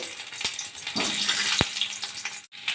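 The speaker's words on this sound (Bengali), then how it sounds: "তেল একটু গরম হয়ে যাওয়ার পরে আমি সেদ্ধ করা আলুগুলোকে ছেড়ে একটু হালকা করে ভেজে তুলে নেব" Boiled potatoes frying lightly in mustard oil in a wok, a steady bright sizzle with a few sharp clicks and brief dips, close and fairly loud, with no talk.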